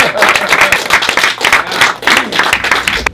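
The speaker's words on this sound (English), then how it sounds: "Give him a round of applause, guys." A small audience gives a lively round of applause after a classroom scene performance, with close, uneven hand claps and a few voices mixed in.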